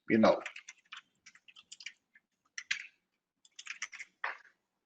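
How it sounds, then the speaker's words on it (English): Keys on a computer keyboard are pressed in a scattered series of sharp, close clicks, a couple of quick taps at a time with short silences between. "just use your tab on your keyboard and tab, tab, tab"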